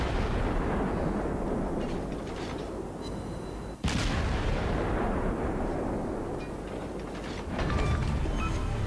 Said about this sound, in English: I just can get these guns reloaded so fast that it kind of makes up for the low damage with a high rate of fire